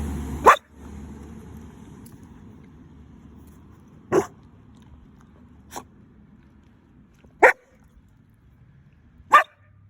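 A dog barks five times, each a short, sharp single bark separated by several seconds of quiet room noise, fairly close by.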